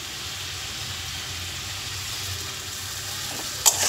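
Ground gandal leaf paste hitting hot oil in a frying fish and papaya curry, a steady soft sizzle that runs throughout with a small clatter near the end, no voices.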